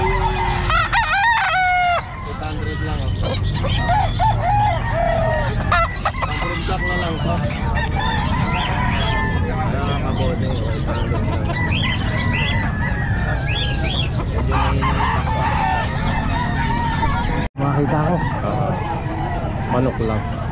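Chickens and roosters crow and cluck loudly and continuously at the Calumpit pet market in the Philippines, several birds calling over one another up close while people talk nearby.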